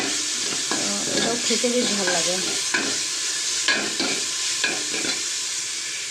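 Drained chhena is stirred and fried with sugar in a pot, giving a soft sizzle and scraping stirs, while a person talks briefly over the cooking.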